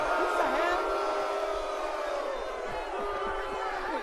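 Studio audience at a sports debate show shouting and cheering in response, a loud sustained crowd roar with overlapping voices throughout.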